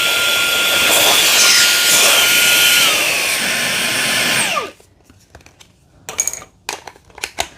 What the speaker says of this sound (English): Now let's put the blower attachment on.